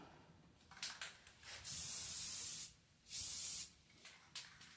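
Hunter Green Rust-Oleum spray paint hisses from an aerosol can in several bursts, two long steady sprays between shorter puffs, close and alone with no voices, during repair work on a Ford Model A gas tank.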